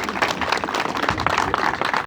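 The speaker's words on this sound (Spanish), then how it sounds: "un aplauso a nuestros dirigentes eclesiásticos" Applause for church leaders during a bishop's visit to Pukara, a dense, steady wash of clapping from a crowd that fills the whole moment at close range.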